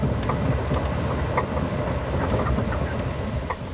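Diesel-electric train running on a Canadian rail line, a steady loud rumbling drone with faint rhythmic rattles and clicks throughout and no voices.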